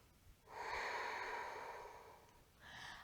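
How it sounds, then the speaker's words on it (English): Slow nasal breathing during a vinyasa yoga flow: a long, airy breath through the nose lasting about two seconds, then a brief pause and the start of another breath, close and quiet. "Breathing in through the nose, breathing out through the nose."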